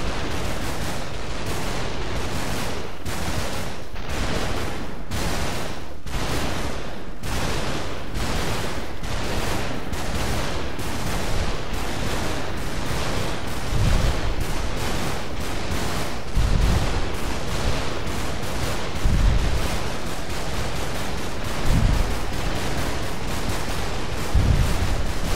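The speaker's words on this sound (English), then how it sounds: "they're all shooting at me now" Video-game firefight with many shooters firing at once, a relentless dense crackle of overlapping shots lasting throughout, loud and close, with heavier low booms punctuating the second half.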